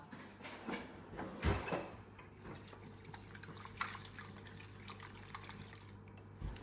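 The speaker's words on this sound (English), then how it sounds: "I'm now going to whisk this all together." A peanut butter batter made with an egg substitute is whisked in a bowl, giving scattered quiet clicks, taps and wet sloshing sounds close by, with no talking.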